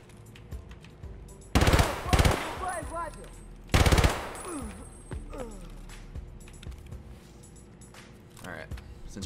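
Loud automatic gunfire bursts in Escape from Tarkov near the dorms, two sharp close volleys followed by scattered shots and echoes, with someone talking over and between them.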